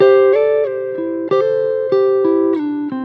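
Electric guitar plays a short phrase of Memphis soul-style double stops, each pair picked cleanly with a pick and ringing together, several changes in a steady rhythm, close and clear.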